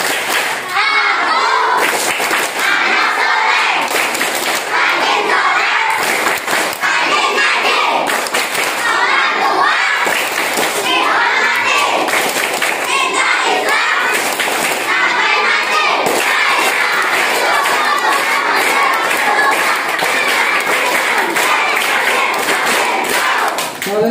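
A group of elementary schoolchildren at a Ramadan school program claps and chants together in a rhythmic clapping game, loud and close, with sharp repeated claps over energetic shouted voices throughout.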